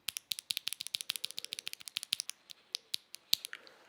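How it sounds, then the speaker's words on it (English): Mechanical key switches on an Akko MU01 keyboard clack in a quick, fairly regular series of about two dozen crisp, higher-pitched presses, close and clear, slowing slightly toward the end with no talking. "The sound of the switch, the sound that you're hearing here, is very similar to what you hear when installing them on the keyboard."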